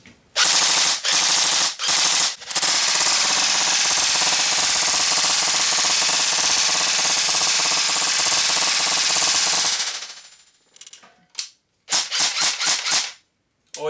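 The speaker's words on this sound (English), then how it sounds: "after I shoot on full auto for a second" A JG AK-74 electric blowback airsoft rifle fires on full auto: a few short bursts, then one long continuous rattling burst lasting several seconds, followed by more quick clattering bursts, loud and close.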